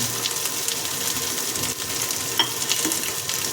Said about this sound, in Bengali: একটু কষতে দেবো মশলাটা